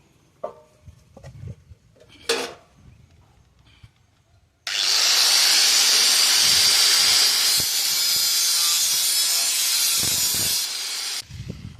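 Close, loud continuous cutting through material, a harsh rasping hiss lasting several seconds, preceded by a few scattered knocks and handling sounds and ending abruptly.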